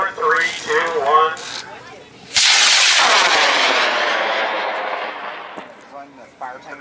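A model rocket launches at a club launch event with a sudden loud roaring whoosh that gradually fades as it climbs away. People talk before the launch and again as the roar dies down.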